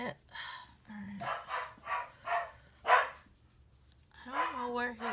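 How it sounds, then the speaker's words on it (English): Dogs bark indoors in a run of sharp, fairly close barks and yips spread across several seconds, with a brief whine mixed in. "dogs are barking, of course"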